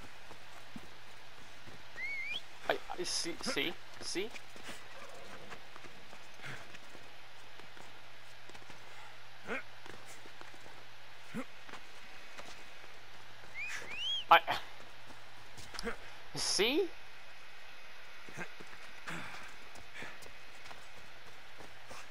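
A called horse's hooves clip-clop in Assassin's Creed Odyssey, faint scattered trotting steps amid quiet game ambience with occasional whistles and chirps, while someone talks intermittently.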